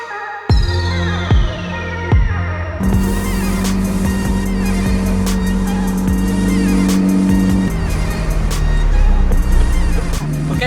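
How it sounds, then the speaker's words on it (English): A McLaren 600LT sports car fires up and drives off, its engine barking through sharp revs before settling into a loud, sustained drone with rising and falling pitch. "first time driving in the McLaren 600LT"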